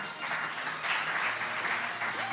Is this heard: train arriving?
no